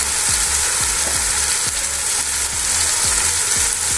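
Okra frying in ghee with chaat masala gives a loud, close, constant sizzle, with a low rhythmic thumping of stirring repeating about twice a second beneath it and no voices.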